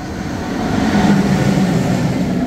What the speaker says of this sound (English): Train is coming. Train is coming, guys.